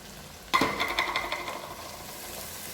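Carrot goes into a hot pan with onion and green chilli, setting off a sudden crackling sizzle. The sound fades gradually as it is stirred, and nobody speaks.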